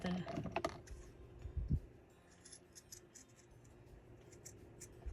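Scissors snip through a strip of lace on a round craft embellishment, giving a quick run of close crisp cuts early on, then quieter sparse clicks and handling.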